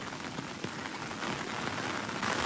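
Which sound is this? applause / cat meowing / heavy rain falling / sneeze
heavy rain falling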